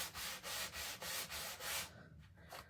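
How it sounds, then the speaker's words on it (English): A small electric sander works over a wooden spindle cross in quick back-and-forth strokes, about six rhythmic passes close to the microphone, then eases off into quieter, softer rubbing. "I love this little thing, this little sander."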